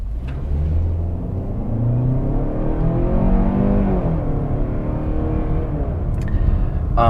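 A 2021 Hyundai Santa Fe SUV with a 191-horsepower engine accelerates in sport mode to about 30 mph. The engine drone holds loud and steady, its pitch rising and then settling, heard from inside the cabin with no talking.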